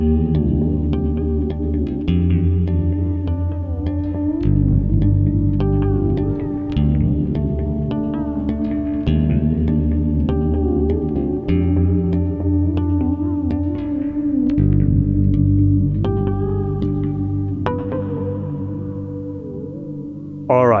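Guitar played through an echo pedal with its modulation depth turned up, sustained chords and notes smeared into wobbling, chorus-like repeats that trail and overlap, steady and fairly loud throughout with no talking.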